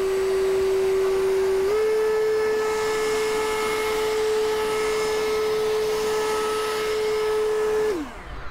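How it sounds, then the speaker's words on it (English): An electric leaf blower runs at full power, a loud, steady tonal whine that steps up slightly in pitch on turbo, holds evenly, then winds down at the end. "there's still some significant noise when using an electric blower at full power. Now, if you hit the turbo button"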